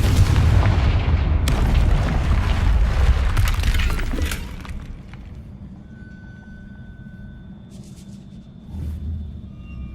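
Booming Confringo spell blasts in the Hogwarts Legacy video game, heavy rumbling explosions with shattering debris for the first four seconds, then a quieter tail with a smaller thump near the end.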